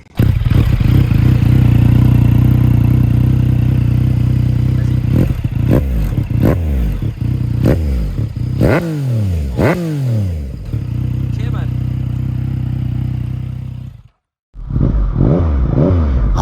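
A Yamaha MT-09 SP motorcycle engine idles loudly, then revs sharply several times in rising and falling bursts, cuts out briefly, and roars back to life.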